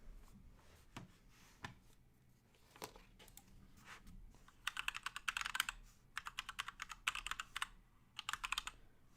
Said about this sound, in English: Here, let me grab my really noisy keyboard